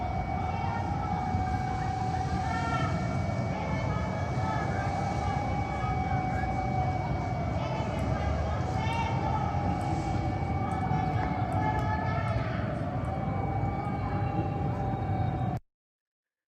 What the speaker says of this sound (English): You had the air raid sirens going off.